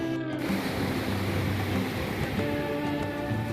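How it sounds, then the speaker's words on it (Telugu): Big sea waves break and wash onto a Goa beach, a loud continuous roaring surf filling the whole stretch without pause, heard close with no talking. "పెద్ద అలలు వచ్చేస్తున్నాయి."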